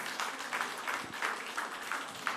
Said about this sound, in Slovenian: En aplavz za naše folkloriste